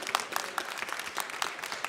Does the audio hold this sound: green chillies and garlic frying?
no